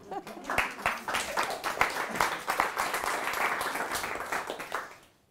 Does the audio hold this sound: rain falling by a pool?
no